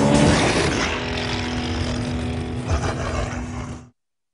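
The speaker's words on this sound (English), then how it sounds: "The 469 horsepower E55 AMG. Feel the power of a Mercedes." A Mercedes E55 AMG with 469 horsepower, a deep, steady engine drone that stays strong for about four seconds and then cuts off abruptly.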